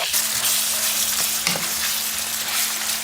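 Steady, close sizzling of ground beef browning in a hot pan, a continuous crackling hiss with occasional light scrapes and stirring.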